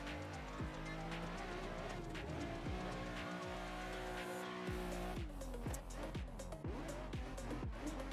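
A car drifts with the handbrake in a racing video game on a mountain course with a jump, its engine droning and shifting pitch steadily while tires squeal in repeated bursts, loud and continuous with no talking.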